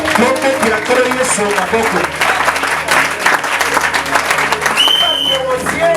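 A church congregation applauding during a French-language sermon, a loud, steady burst of clapping from many hands mixed with voices and crowd noise.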